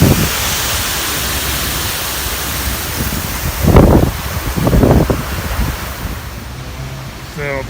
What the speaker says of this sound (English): You can safely say it's pretty windy.